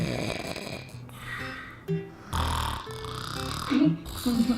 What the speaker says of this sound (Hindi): आपको सिर्फ दो तरह के खर्राटे पता होंगे।